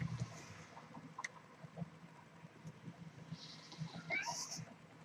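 A house cat meows a few times, mid-distance and moderately loud, against a quiet indoor room with faint background noise.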